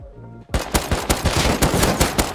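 Automatic gunfire in the video game Rust breaks out suddenly after a brief quiet moment, loud rapid bursts of shots in an uneven rhythm.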